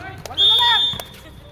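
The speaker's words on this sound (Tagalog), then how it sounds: "Ay, tumuloy yung buzzer natin eh." Electronic buzzer at an amateur basketball game sounding once for under half a second, a bright steady tone set against court noise and nearby voices.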